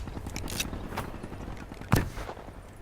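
Gunfire in Call of Duty: Black Ops 3 comes as a scattered burst of moderate shots and mechanical clatter, with one sharper, louder report near the end, and no voices.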